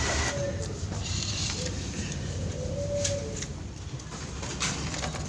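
Two zebra doves (perkutut) bought as market birds coo in a cage, soft repeated calls set against a steady hiss of room or background noise.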